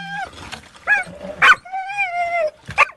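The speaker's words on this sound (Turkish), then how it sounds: "Sokak köpeği sulama kanalında mahsur kaldı" A stray dog trapped in an irrigation canal whimpers and yelps in a string of high, wavering cries and short yips, close and distinct, with brief pauses between calls.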